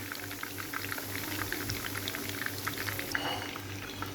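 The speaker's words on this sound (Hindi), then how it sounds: "इसी तरह हम सारे कबाब फ्राई करके आपको दिखाते हैं।" Gola kababs deep-fry in hot oil, giving a steady, fairly quiet bubbling sizzle that runs on without pause.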